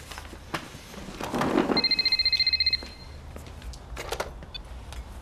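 A telephone rings in a domestic setting, a rapid electronic trill repeating for about a second, fairly clear over a quiet room with faint background noise before and after.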